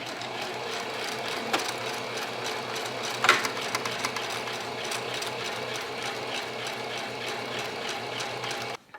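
A sewing machine runs steadily while stitching a fabric bread bag, backing up briefly to lock the stitches, with one sharp click partway through and a continuous mechanical whir until it stops abruptly at the end.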